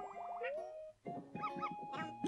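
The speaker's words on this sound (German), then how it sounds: "Da ist der dritte Hund." Cartoonish dog sounds in Yoshi's Crafted World, springy yipping and boing-like tones in short bursts alongside bright game music, fairly quiet.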